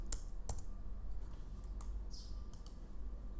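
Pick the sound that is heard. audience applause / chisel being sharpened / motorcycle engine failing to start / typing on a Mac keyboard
typing on a Mac keyboard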